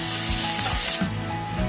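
Onion fries in a pan for samosa chaat with a loud, close sizzle and low thumps from stirring, unbroken for the whole short stretch.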